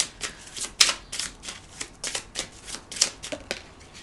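Tarot cards being shuffled by hand, a close series of crisp riffling bursts and soft flicks repeating unevenly, with a sharper snap near the start and no talking.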